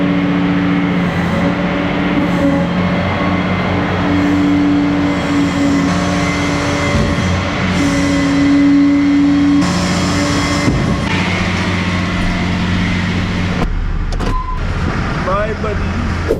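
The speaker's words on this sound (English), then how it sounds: "You cannot get rid of that old school V8." An old school V8 from a Chevy dealership setting with a C8 Corvette Z06, a loud, rumbling engine with rising revs and mechanical whine, mixed with nearby voices and other vehicle noise.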